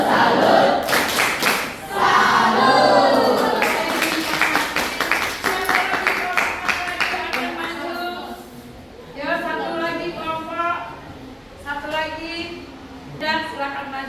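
A group at a school guidance and counselling workshop performs the rhythmic 'tepuk salut' clap chant, with sharp patterned claps mixed with chanting voices before the claps stop and people talk over a quieter room.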